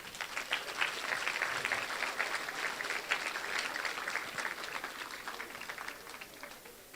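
Audience applause for graduating seniors at a high school senior promotion ceremony, a steady wash of many hands clapping at moderate level throughout, with no voices standing out.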